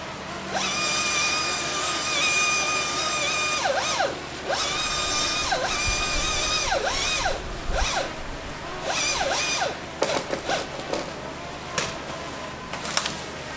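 A battery-powered electric chainsaw cuts through a tree during an urban tree removal. Its high, whining motor rises and falls in repeated bursts of cutting, moderately distant with faint background noise.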